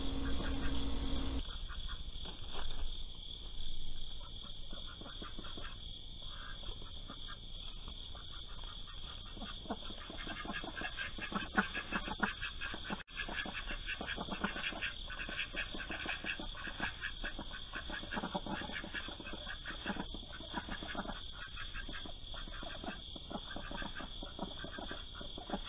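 Six-month-old ducks quack intermittently against a constant hiss of outdoor background noise, with no voices present.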